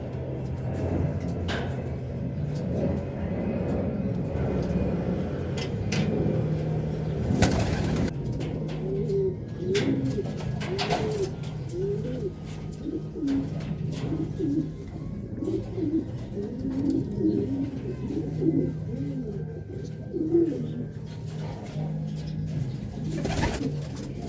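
Racing pigeons cooing repeatedly in soft rhythmic calls, close by, over a low steady hum of distant traffic; no talking.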